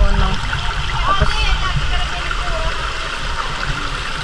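A stream on Inapulangan Island runs with a steady rushing babble, loud and near, and faint voices can be heard over the water.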